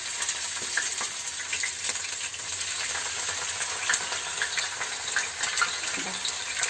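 Chopped green chillies fry in about four tablespoons of hot oil in a pan, giving a steady bright crackling sizzle with scattered pops, close and fairly loud throughout, without any voices.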